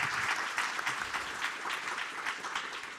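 Applause for panelists and a moderator at a conference on AI in schools, a steady room-filling round of clapping from the audience with no voices over it.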